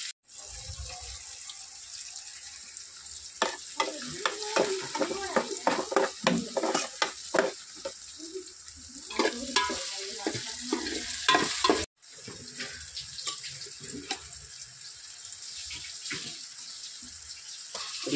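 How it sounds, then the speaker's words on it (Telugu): Onions fry in hot oil for curry while a spoon stirs and scrapes the pan, giving rapid clinks and a rushing sizzle that swells and fades, with a brief cut partway through and no talking. "ఈ ఉల్లిపాయ వేగాలి."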